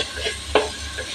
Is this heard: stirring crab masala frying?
yes